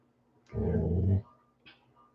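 A dog named Flash gives one close, loud, low growl lasting under a second, followed by a short, fainter whimpering yip.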